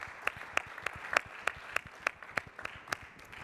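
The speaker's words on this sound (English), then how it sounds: "give them a round of applause for all of what they did already" A conference audience applauds at an aviation event, with distinct regular claps spaced about a third of a second apart over a softer bed of scattered clapping, fairly faint and distant.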